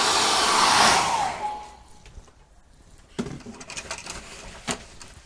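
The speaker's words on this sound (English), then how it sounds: "And again, we need a hairdryer." A hairdryer blows loudly for about a second and a half, drying acrylic paint, then cuts off, leaving quieter room sounds with light knocks and faint bird calls.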